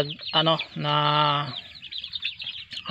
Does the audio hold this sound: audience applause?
no